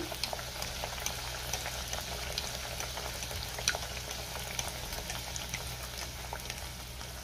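A leftover rice vada deep frying in hot oil. A dense, continuous bubbling crackle sounds close and fairly loud throughout, scattered with small sharp pops and no talking.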